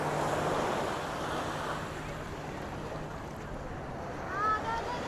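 Surf rolling in at Praia da Oura beach in Albufeira, Portugal, a continuous near wash of waves with wind noise, a faint boat-like hum in the background and a brief louder swell near the end.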